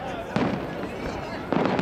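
Canada Day fireworks in Victoria, BC, in 2009: two heavy booming bursts land about a second apart over a steady murmur of outdoor crowd noise, with people chatting nearby.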